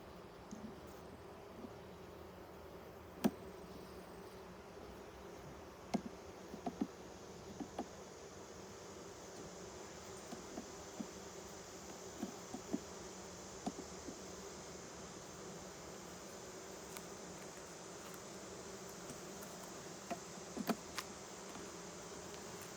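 Honey bees buzz around an open, queenless hive during an inspection, a faint, continuous droning hum with scattered small clicks and taps from handling.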